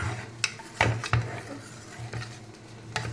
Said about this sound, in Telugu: ఇదంతా కలుపుకుందాం ఒకసారి ఈవెన్గా.